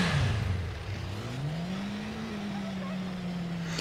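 A motorcycle engine in the video game Watch Dogs revs with a steady, close drone whose pitch sinks, then climbs and holds, heard alone without talk.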